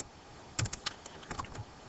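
Code being entered on a computer keyboard while programming a first BlackBerry app: a short burst of quick, light key clicks after a moment of quiet, close and fairly soft.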